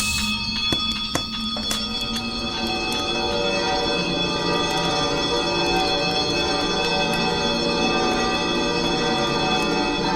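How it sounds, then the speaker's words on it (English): Several bells ring together in a sustained, shimmering clang, with a few sharp strikes at the start and a steady ringing wash after. "Soon it rang out loudly, and so did every bell in the house."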